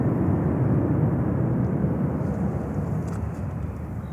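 An Airbus A330-300 jet from Athens moves through JFK Airport, its engines a steady broadband roar that holds loud and even throughout, with no break or voice over it.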